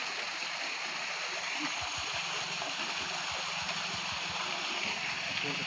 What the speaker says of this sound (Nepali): गाउँमा पानी लगाउनको लागि हामीहरू यही पानी खोल्छौं गाइस